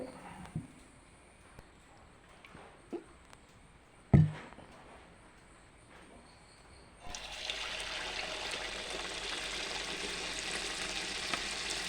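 Jackfruit fritters are dropped into boiling coconut oil and a steady, bright sizzle of frying bursts up, following several faint taps and a soft clunk.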